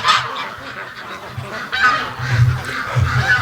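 Muscovy ducks outdoors near a nest on a cool morning give loud, close, hoarse honking calls in several bursts over a breathy background.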